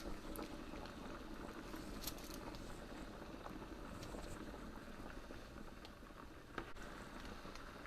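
A pot of chicken and dumplings simmers quietly on the stove, a faint, steady bubbling patter with occasional small pops and a light clink, with no talking.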